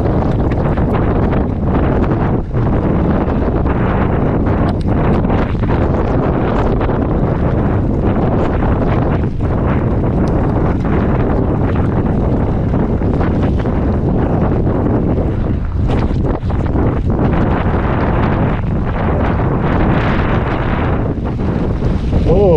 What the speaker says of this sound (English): we had to fight against a ferocious headwind